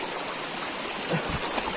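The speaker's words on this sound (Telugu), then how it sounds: "ఇంత దాదాపు 6 అడుగు పైన నీళ్ళు జలపాతం వస్తుంది" Waterfall near the Sri Amara Lingeshwara Swamy shrine at Kona, Tirupati, tumbling about six feet down from a hill, a steady broadband rush of flowing water close by with no voices.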